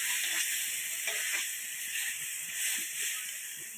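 Cooked taro leaves are stirred in a pan after sugar goes in, with a steady close sizzle and hiss running throughout and soft scraping of the spoon beneath it.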